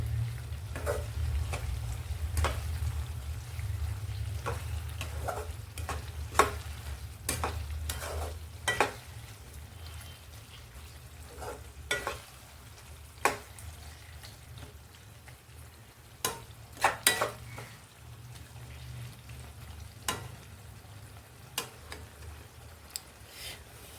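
Okra tomato curry cooking in a pan, a soft bubbling sizzle over a low hum that fades partway through, punctuated by scattered sharp ticks and clacks, faint and close.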